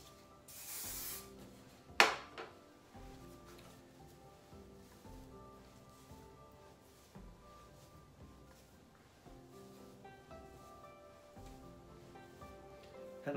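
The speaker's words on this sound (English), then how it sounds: "I'll pop a little spray on." Short hiss of hairspray misted onto an Edwardian-style updo, a soft spray near the start followed by a sharp knock, then quiet rustling and faint handling sounds.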